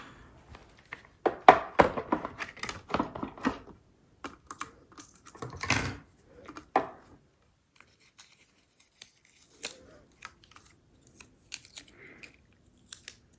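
A die-cutting machine rolls a sheet of card through a butterfly die, giving a run of loud mechanical clicks and grinding pulses, then fainter intermittent handling noises afterward, with no voices.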